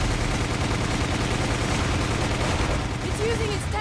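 Machine-gun fire in the video game The House of the Misled: Gaiden forms a steady, loud, dense rattle that runs without pause through the whole stretch.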